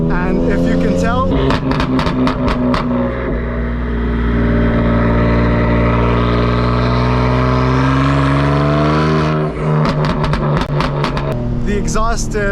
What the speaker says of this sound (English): the exhaust is quite loud